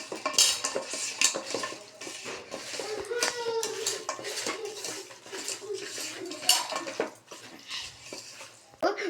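Chicken being mixed in a pan with chili powder, salt and ginger-garlic paste: close, busy clatter of a spoon against metal cookware with scraping and stirring throughout, and a voice talking over it.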